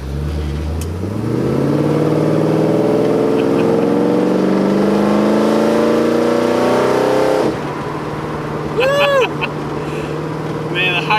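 A 1957 Chevrolet Bel Air restomod's engine revs loudly while driving, pitch climbing steadily through the gears for several seconds before dropping off as it eases, heard close from inside the car.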